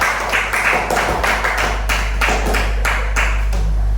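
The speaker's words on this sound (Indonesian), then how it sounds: "tepuk tangan untuk Bapak Ibu." Group hand clapping at a school teacher-training session, bursts of claps in a loose repeating rhythm over a steady low hum, moderately loud and fairly near.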